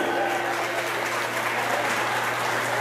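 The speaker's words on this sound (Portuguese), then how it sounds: "Aplausos para Cício, o gato!" A party audience at a ball claps for a guest introduced on stage. The full, even applause is steady throughout, with a faint voice and a low hum underneath.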